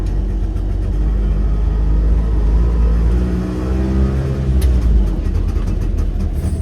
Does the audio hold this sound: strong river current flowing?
no